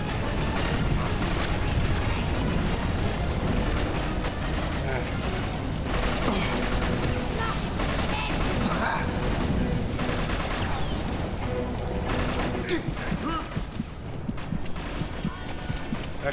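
Gunfire from the co-op shooter video game Inversion is buried in a dense, continuous wall of game sound, with sustained loud noise running throughout and no clear pauses.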